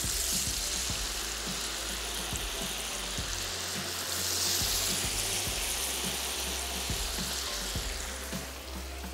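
Chicken pieces fry in hot marinade oil with a loud, steady sizzle and bubbling crackle that holds throughout, close up and without talk.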